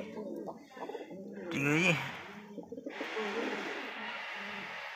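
Madrasi pigeon pairs cooing in soft repeated calls, mixed with nearby bird chatter, while someone talks over them.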